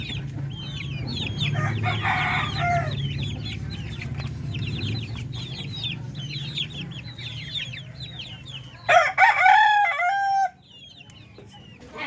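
A rooster and hens in a new cage, clucking and calling close by over steady barnyard noise, with a louder burst of squawking crowing near the end.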